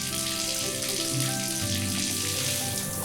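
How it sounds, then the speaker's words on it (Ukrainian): Steady rushing water from a tap pours into a sink, a continuous close hiss with a faint hum running underneath. "Вода лється і наповнює раковину."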